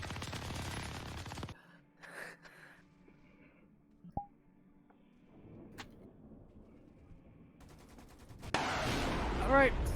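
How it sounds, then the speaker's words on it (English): A minigun in a video game fires in dense, loud rattling bursts at the start and end, with quieter game sounds in between and a voice talking over the action. "Fire that minigun"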